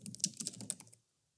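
Brief burst of computer keyboard typing while a name is entered for a device configuration backup file, a quick run of close, soft key clicks lasting about a second before going silent.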